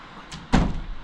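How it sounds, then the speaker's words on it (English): A door is pulled shut indoors: a faint scrape, then a single firm thud with a short ring-out, heard alone without speech. "I'm just going to close this door."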